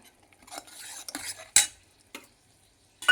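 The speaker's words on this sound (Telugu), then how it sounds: "ఇది టమాటా గుజ్జు అనమాట. ఇది కూడా వేగాలి." Tomato pulp frying in a pan while a spoon scrapes and clinks against the metal, giving sparse, uneven stirring knocks over a faint sizzle.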